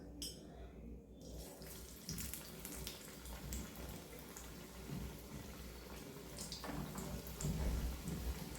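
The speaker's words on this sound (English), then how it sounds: "now the oil is hot and let's fry our vadis one by one" Coriander fritters (kothimbir vadi) frying in hot oil in a small iron kadai, a steady close hiss and crackle of bubbling oil continuing throughout without speech.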